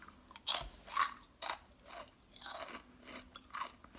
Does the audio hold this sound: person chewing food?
yes